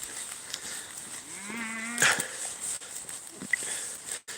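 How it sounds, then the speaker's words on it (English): A cow moos once in a long, wavering call with a steady low tone, heard at moderate distance in an outdoor setting with background noise and a sharp knock near the end. "It's a moo cow."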